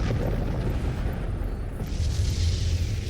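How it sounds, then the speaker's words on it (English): A distant explosion effect from a tabletop Alien RPG session, playing Chariot of the Gods: a steady, heavy low rumble with a muffled boom that swells slightly near the end, with no voices. "explosion goes off in the distance"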